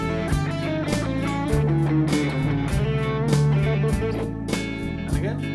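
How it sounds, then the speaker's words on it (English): An electric guitar plays a minor pentatonic blues line over a blues backing track with steady rhythmic chords and drums, a loud, continuous groove without talk. "So what I'm going to do is I'm going to play this line for you over a blues backing track."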